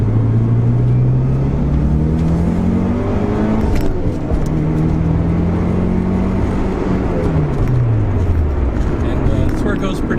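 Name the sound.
Mitsubishi Lancer EVO III engine revving up to 7,000 RPM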